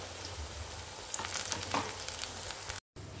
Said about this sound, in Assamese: মই যিমান কম তেলতে পকৰিকেইটা ভাজিব পাৰোঁ